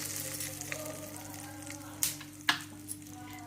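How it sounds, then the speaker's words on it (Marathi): Mustard seeds crackling in hot oil for a spicy green chili and lemon pickle: a soft continuous sizzle punctuated by a few sharp pops near the end, close and fairly quiet, without voices. "मोहरी घातली, चांगली चटचट आवाज येते"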